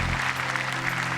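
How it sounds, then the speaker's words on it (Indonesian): A crowd applauding, dense steady clapping filling the short moment. "Sekali lagi tepuk tangan untuk Rahmat"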